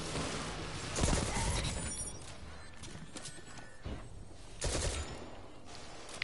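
Rapid bursts of automatic gunfire from the video game Destiny 2, loud and dense, with heavier volleys around the start and later, set against a constant roar of game ambience.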